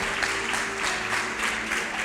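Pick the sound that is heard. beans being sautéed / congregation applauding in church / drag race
congregation applauding in church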